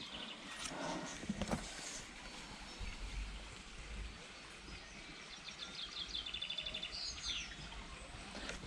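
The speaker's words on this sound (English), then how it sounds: "Hear lots of bird movement." Birds chirp and tweet in scattered high calls outdoors, with a brief trill near the end, over steady background noise like running water or light rain.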